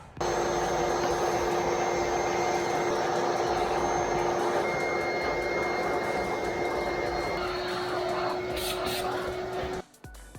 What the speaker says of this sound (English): you know, just vacuum it up,